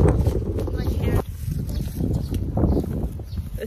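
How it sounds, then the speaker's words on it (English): Strong wind gusts buffet the microphone outdoors at a scenic viewpoint in Bhutan, a loud, steady roar with a sharp drop partway through, while people talk over it. "It's so windy."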